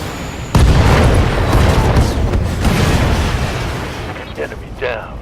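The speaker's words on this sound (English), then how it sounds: "we'll fire the SRM-5 and just put him out of his misery." An SRM-5 missile volley and its explosions in the Battletech video game, heard as a sudden loud boom followed by several rolling blasts and crackling. Sharp, fading bursts come near the end.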